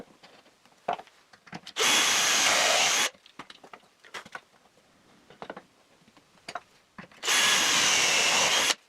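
A drill boring dowel holes through store-bought furniture boards with a drilling jig, two loud, harsh bursts of about a second each, separated by quieter clicks and handling knocks of the jig and boards.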